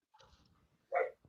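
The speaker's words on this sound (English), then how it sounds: "And sorry about the barking dog in the background." A dog barks a few times indoors in the background, a loud bark burst near the end after quieter whimpering yips, no one talking over it.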